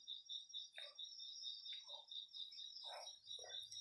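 Short croaking calls repeat a few times at irregular intervals against a steady high-pitched insect trill, in a quiet outdoor night setting.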